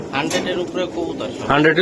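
Racing pigeons cooing close by in a loft, soft repeated coos under a voice.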